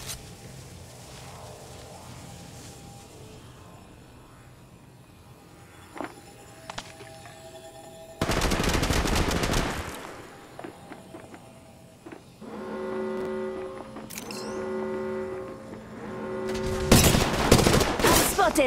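Automatic weapon fire in the mobile battle royale game Apex Legends Mobile, loud close bursts of rapid shots in several volleys over ambient game sounds and electronic tones.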